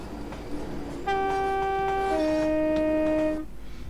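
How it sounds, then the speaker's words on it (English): A Class 390 electric train in Train Sim 2021 departing Wembley Intercity Depot: two-tone horn blasts sounding clearly for over two seconds over a steady low rumble of the train. "departing Wembley Intercity Depot, the speed limit is 15 miles an hour"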